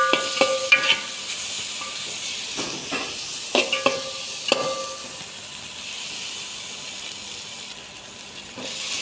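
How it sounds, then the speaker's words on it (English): Spiced beef pilau mixture with ginger and masala stirred in a sizzling pan, soft hissing frying underneath intermittent spoon scrapes and clacks, close and fairly quiet. "Then stir them completely."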